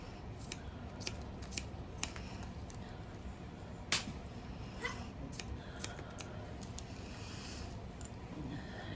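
Steady, quiet snipping of scissors cutting hair during a basic short home haircut, a run of close, rapid, evenly repeated clicks with no talk.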